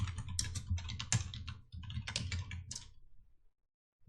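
Quick bursts of keystrokes on a computer keyboard rattle in close, irregular clusters for about three seconds, then stop into near silence.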